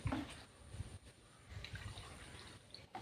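Strained rice water is stirred in a container, making soft, low sloshing and swirling water sounds with no talking.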